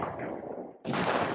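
A field cannon firing in the strategy game Civilization VI: a steady rushing roar dips briefly, then a loud, sharp blast bursts out and sustains.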